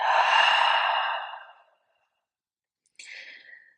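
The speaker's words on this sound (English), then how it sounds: "come into nice smooth breath. Inhaling and exhaling" Slow yoga breathing: one long, loud, close exhale fades out, then silence follows, then a shorter, fainter breath begins.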